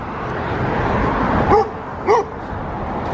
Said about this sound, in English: This dog always freaks out